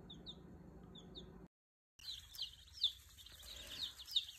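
Soft chirps and clucks from chicks, with a brief dropout partway through and a busier stretch of chirping afterward, fairly faint.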